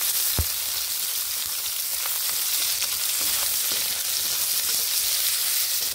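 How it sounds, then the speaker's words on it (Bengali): Potatoes with a little salt frying in hot oil in a wok, a steady dense sizzle throughout with occasional faint pops and stirring sounds, close and loud with no talking. "আলুগুলোকে বেশ ভালোভাবে লাল লাল করে ভেজে নেব"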